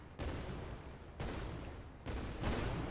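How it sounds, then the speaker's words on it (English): Rocket-jumping explosions in a video game under development, three distinct muffled blasts spaced about a second apart, each followed by a rumbling tail, with no talk. "rocket jumping"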